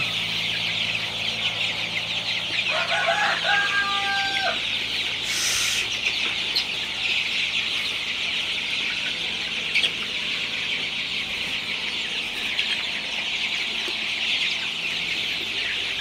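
Thirty-day-old Sonali super hybrid chicks in a poultry shed, a dense flock keeping up continuous chirping and clucking at steady loudness for the whole stretch, with a brief sharper call partway through and no voices.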